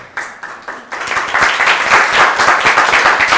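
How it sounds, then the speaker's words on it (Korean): At a student debate contest award ceremony, the crowd applauds the third-place team: a few scattered claps build quickly into dense, lively clapping that stays loud to the end. "우리 큰 박수로 축하해 주시면 감사하겠고요"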